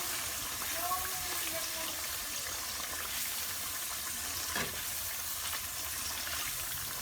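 Tomato paste being mixed into tandoori chicken gravy masala in a pan, a steady soft sizzle with faint stirring scrapes throughout.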